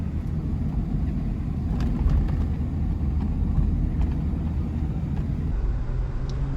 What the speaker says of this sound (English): Oh, we got a Gen 2 coming racing up on our side.